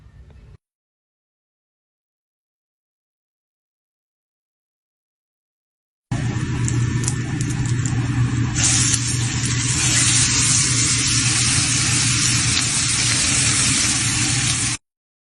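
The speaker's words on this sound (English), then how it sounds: "giving a steak a little sear" A steak searing in a hot pan gives off a loud, steady, close sizzle. It starts abruptly after several seconds of silence and hisses continuously for about nine seconds.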